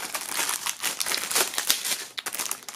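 Plastic shrink wrap crinkles and crackles as it is peeled off a new CD album in its jewel case, a steady run of close, dry rustling bursts with no talking.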